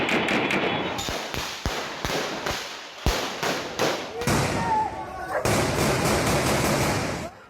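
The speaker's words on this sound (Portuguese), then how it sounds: "Tá dando tiro aí, pai." Gunfire from a shootout in Cidade de Deus, Rio de Janeiro, with sharp cracking shots in irregular bursts, some close and loud, others more distant, over a noisy outdoor background with voices.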